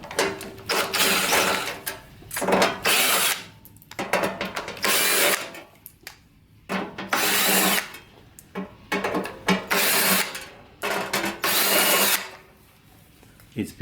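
A power tool backs screws out of the heat box cover on a Sno Tek snowblower by Ariens, whirring in repeated short bursts separated by brief pauses.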